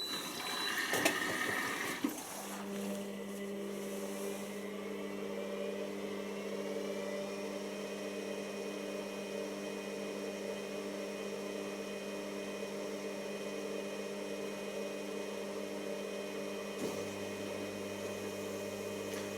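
A washer-dryer in its drying cycle, fitted with a condenser and pipe, hums steadily with a low tonal drone and faint airy whoosh after a brief clatter as it starts, running continuously nearby with no talk.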